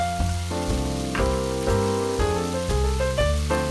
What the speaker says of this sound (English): Mix well and continue stir frying at a high heat.